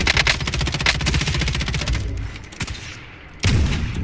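Rapid automatic gunfire in Call of Duty Warzone, with an M13 rifle among the weapons, rattles loud and close in dense bursts, fades briefly, then a heavy burst returns at the end.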